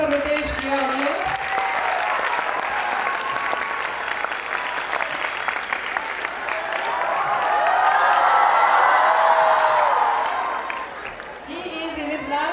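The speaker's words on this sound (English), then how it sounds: "A huge round of applause for Rutesh" An audience gives a long, loud, dense round of applause with some cheering, swelling in the middle and tapering off near the end, heard alone without speech.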